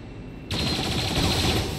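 Sustained automatic gunfire from the video game XCOM 2 kicks in abruptly after half a second of quiet, a loud, dense rattle of rapid shots that continues without a break to the end.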